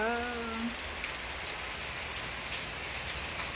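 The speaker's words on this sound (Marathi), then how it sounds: "बघा कसा छान पाऊस पडतोय" Heavy summer rain pours outdoors in a dense, steady hiss of drops hitting surfaces, with a brief voice at the very start.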